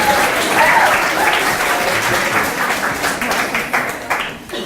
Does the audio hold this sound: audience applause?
yes